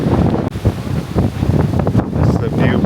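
Wind gusting across the grounds of a seaside hotel in San Juan, Puerto Rico, a loud rumbling buffet against the microphone with surges and dips, mixed with faint surf-like wash in the background.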